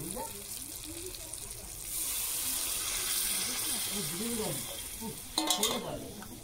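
Boiled peas tip into a pan of spice masala frying for ghugni, raising a louder sizzle and wet stirring that swells midway, with a brief burst of clattering near the end.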